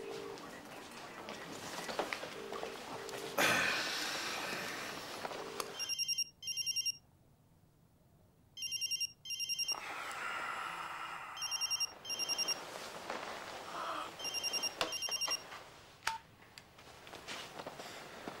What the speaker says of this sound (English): Because you are ringing Tika.